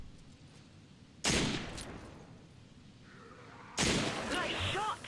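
Gunfire in the video game Resident Evil 5: two sharp, loud volleys about two and a half seconds apart, each trailing into noisy game ambience.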